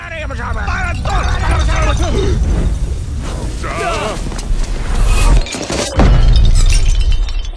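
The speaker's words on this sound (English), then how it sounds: "That's right when the giant star crashes into the moon." A sound-design effect of a giant star crashing into the moon: a loud, dense layer of shattering, bursting and metallic clinks that swells and surges, cuts out briefly near the end, then slams back in.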